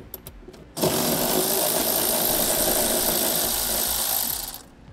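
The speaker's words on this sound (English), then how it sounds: "Now we'll remove our cargo tie-down hooks by using a 10mm socket." A power tool running a 10mm socket whirs steadily for about four seconds, removing the cargo tie-down hooks in a 2009 Honda CR-V, after a few faint clicks at the start.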